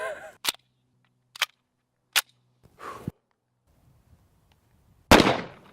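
A double-barrel pistol fires five paired shots, each a sharp crack spaced about a second apart with quiet between, the last one loudest and closest.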